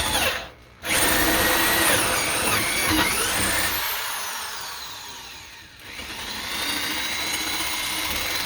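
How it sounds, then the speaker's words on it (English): A power drill whines steadily at close range, briefly dipping and pausing near the start, then running on with a shifting high-pitched tone. "on the bigger drill bits, they do great for drilling"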